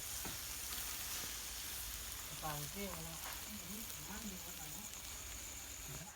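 Isan sausages grilling over heat, a soft continuous sizzle and hiss close by, with a person's voice talking briefly in the middle.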